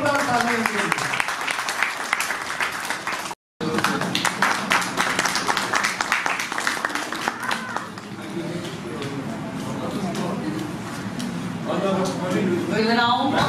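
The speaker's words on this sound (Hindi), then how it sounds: "जोरदार तालियां इनके लिए।" Audience applause at an Asian Club event honouring Kamal Chhabra, a sustained round of clapping with a brief cut, while a host keeps talking over it.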